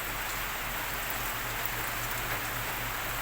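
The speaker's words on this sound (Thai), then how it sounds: "ฝนตกครับ" Steady rain pours down during a storm, a dense, even hiss of drops on surfaces that stays constant and fairly loud throughout, with no voices.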